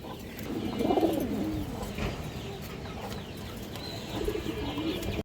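Pigeons coo in a loft of fancy and high-flyer breeds, including a female pigeon, with soft low warbling calls repeating close by over a steady background.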